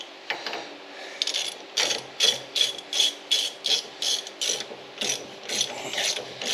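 A hand ratchet tightens a bolt on a golf cart lift kit in a garage, clicking in about a dozen quick, evenly spaced bursts, close and clear.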